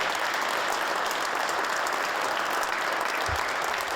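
A crowd claps and cheers steadily for firefighters at a swearing-in ceremony, a dense continuous wash of applause at moderate distance with no clear pauses.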